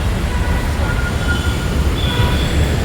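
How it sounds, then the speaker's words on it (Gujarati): Metro train at Dahisar metro station, a loud, close rumble of wheels on rails with faint squealing tones, continuous throughout with no talk. "આ મેટ્રો સ્ટેશન છે હમણાં નવું બન્યું દહીસરનું"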